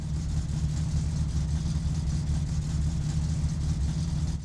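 Close and steady, a normal running car engine idles in My Summer Car with an even low rumble and a faint regular pulse, no voices present.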